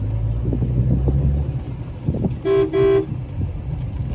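A car driven along a rural road past fields, steady engine and road rumble with two short honks of the horn midway, close and fairly loud.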